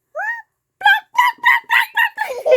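A person imitates a chicken with a short high call followed by a run of six rapid clucking, crowing-like vocal bursts, close and loud with brief gaps between them.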